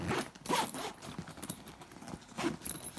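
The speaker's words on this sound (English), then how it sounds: "Okay, it does zip quite easily," Zipper being drawn closed on a Jujube BFF diaper bag: several quick, close, raspy zipping strokes in bursts, fairly quiet, with no voices.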